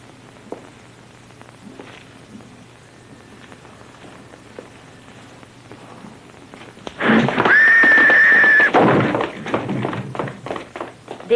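A horse lets out a loud, close whinny lasting about two seconds, rising out of quiet background patter that sounds like light rain, then fades into softer snorting and movement.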